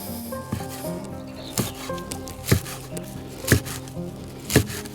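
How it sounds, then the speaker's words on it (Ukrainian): A knife chops fresh tarragon on a board in a steady run of sharp, close strikes about once a second, with light rubbing and scraping between cuts and no talking. "Ну і нарізаємо."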